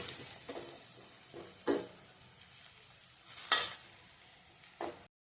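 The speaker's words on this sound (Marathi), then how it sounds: "मसाले चांगले आपण तेलात भाजून घेणार आहोत" Ground spices, including chilli powder, frying in hot oil while being stirred, with a steady sizzle broken by several sharp scraping strokes, two of them louder, heard close up with no talking.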